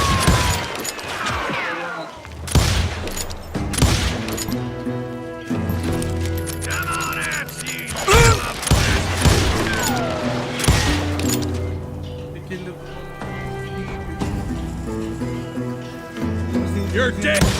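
Gunfire rings out in the Wild West shooter Call of Juarez Gunslinger, loud sharp shots bursting in irregular clusters over a game score, with voices speaking between the volleys.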